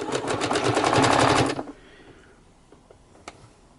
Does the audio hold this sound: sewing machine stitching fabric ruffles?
yes